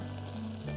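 Hing, onion and green chili tempering in a pan at an outdoor camper van stop in shade, a steady close sizzle with a low hum underneath.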